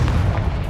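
An explosive spell in the video game Hogwarts Legacy goes off as a short, loud, booming blast with a deep low-end rumble lasting under a second.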